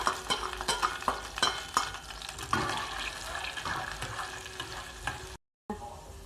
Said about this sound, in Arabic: بصلايه صغيره متقطعه وفصين توم، هنحمرهم هنا كده